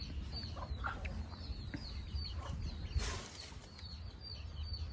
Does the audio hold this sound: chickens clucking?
yes